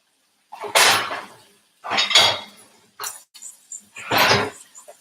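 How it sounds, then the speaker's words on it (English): Cooked shrimp set down onto a plate in a home kitchen, giving three or four close clinking, scraping contacts of food and utensil against dishware with short pauses between them. "Now I'm going to take the shrimp and put them on a plate."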